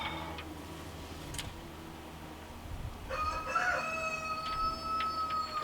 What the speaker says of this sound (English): Even the rooster's happy today.